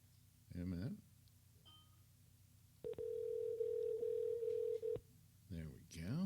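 A Skype call rings on a computer as one steady electronic tone of about two seconds, set between stretches of someone talking.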